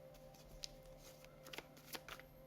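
A deck of playing cards is shuffled quietly with soft riffling flutters and a few sharper slaps and flicks, faint and close.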